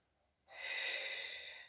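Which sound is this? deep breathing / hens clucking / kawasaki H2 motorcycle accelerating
deep breathing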